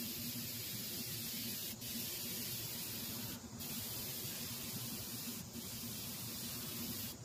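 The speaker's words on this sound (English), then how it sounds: "I'm gonna hit all of the edges first to minimize the overspray that I get on here." Spray paint from an aerosol can hisses in a continuous, even stream along the edges of a car hood, close and steady, with brief dips where the nozzle pauses.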